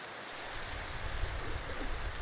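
Steady rain falling in the game Minecraft, a dense, even hiss with a low rumble underneath that holds for the whole stretch without pauses.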